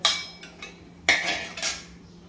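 Cooked spinach-paneer vegetable scooped from a metal pot with a spoon, several sharp clinks and scrapes of metal on metal, close and clear with short pauses between.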